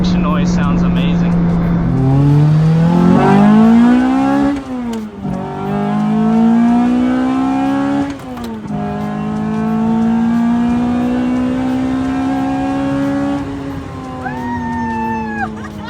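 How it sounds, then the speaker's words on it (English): Lotus Elise 111R engine rises and falls through repeated revs, its loud induction roar climbing in pitch several times and holding steady near the end, with a voice briefly over it. "Man, that's induction noise sounds amazing."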